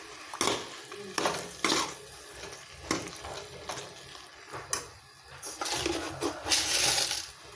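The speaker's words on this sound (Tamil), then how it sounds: "இப்போ இது கூட ஒரு பேக்கெட் காளான் கட் பண்ணி வச்சுருக்கேன், அதை போட்டுக்கலாம்." Sliced mushrooms are sautéed in masala in a pan, making a close sizzle with repeated scraping stirs and clinks of a spoon against the pan, growing louder near the end; no voices.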